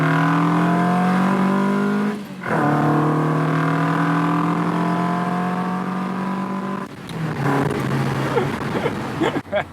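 A light Ford Anglia fitted with a Lotus twin cam engine accelerates hard, its loud, close engine note climbing through the revs, dropping briefly at two gear changes, then pulling up again.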